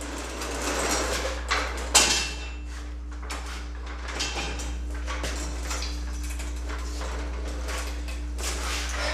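A Harbor Freight drywall lift is spun around, giving a few close metallic clunks and rattles early on, then a quieter sliding rumble over a steady low hum.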